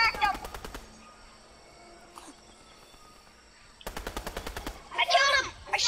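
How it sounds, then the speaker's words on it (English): Rapid bursts of automatic gunfire in the Fortnite video game, with a quick rattling volley at the start and another toward the end, loud and close, separated by a quieter stretch with some excited voices. "I shot him through the wall!"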